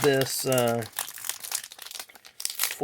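A 2019 Panini Donruss NASCAR fat pack wrapper crinkles loudly and close as it is folded, with a brief voiced hum at the start and steady plastic rustling after.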